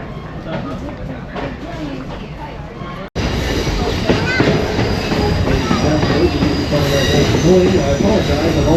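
A Western Maryland Scenic Railroad train rolls through a mountain rock cut, its wheels squealing loudly over a rumbling, rattling run. A sharp cut partway through brings a louder, fuller roar, and a voice speaks under the noise.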